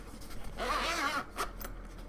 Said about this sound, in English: So here's the zipper.